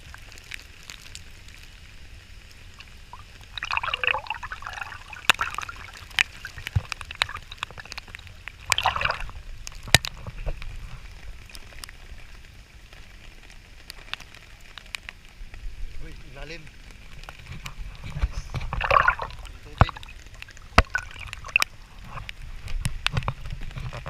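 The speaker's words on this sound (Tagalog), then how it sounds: "Kaya malakas ang hangin, ulan at saka yung agos." Rain patters steadily outdoors with gusty strong wind and rushing floodwater on a flooded Manila street near Kalaw and Pedro Gil, while a person speaks intermittently over the noise.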